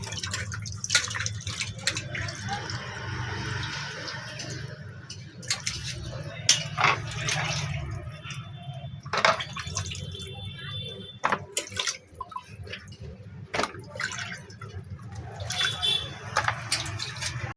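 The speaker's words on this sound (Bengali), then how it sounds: "একবার ধুয়ে নিয়েছি জল দিয়ে" Raw tilapia pieces rinsed in water during home Bengali cooking, with soft splashing and dripping sounds running through the clip and brief louder sloshes, set against a low steady background hum.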